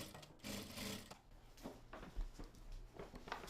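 A home sewing machine stitching old clothes being reused as craft material, with close mechanical whirring in short runs separated by pauses and light clicks, fairly quiet overall.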